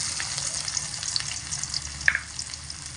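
Chopped onion fries with garlic in a pan, a steady close sizzle with bright crackling pops and a brief louder spatter near the end, with no talking.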